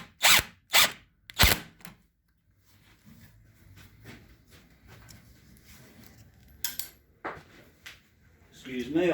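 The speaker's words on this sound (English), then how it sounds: "Excuse me, I've just dropped the screw there." Several sharp metallic clicks and clatters of a screw dropping during awning assembly, then quiet rustling and handling noises as it is picked up, before a few more taps.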